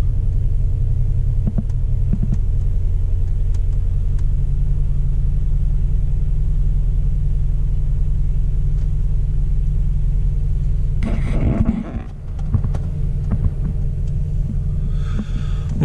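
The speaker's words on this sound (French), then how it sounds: "Elle démarre tout de suite." A car engine idles steadily just after a cold start, a close, continuous low rumble with a brief disturbance partway through, no talking.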